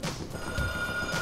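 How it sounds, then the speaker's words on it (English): Alarm ringing in the zombie video game Dying Light, a steady electronic bell-like ring with a clear tone, close and continuous over a brief moment, no speech. "Turn the damn alarm off or you're going to get overrun!"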